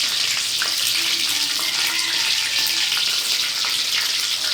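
Fried chicken sizzles steadily in hot oil, a dense continuous crackle with faint pops running evenly throughout, close and fairly loud, with no voices.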